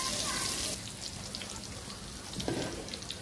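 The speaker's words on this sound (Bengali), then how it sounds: "কাঁকরোলগুলো তেলের মধ্যে দিয়ে দিলাম" Pieces of teasel gourd sizzle in hot oil, a loud hiss at first that settles into a softer, steady crackle with scattered pops.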